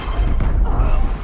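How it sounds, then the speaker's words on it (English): A heavy, low explosion boom in Valorant rumbles loudly and close for about a second, dense and sustained with no clear voices over it. "I literally walked in the explosion"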